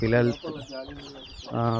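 Country hens on a small farm cluck close by among their chicks, with a few nasal, throaty calls at the start and end of a short burst.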